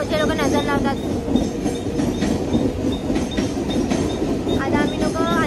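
A Mumbai local train rumbles steadily near Andheri station, a loud continuous rolling clatter with faint squeals and some background voices.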